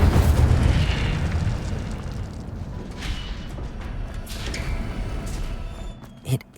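A fire spell, Incendio, cast in the Hogwarts Legacy video game on PS5 gives a loud, deep booming whoosh at the start. It fades into a rumbling crackle, with a sharp pop near the end.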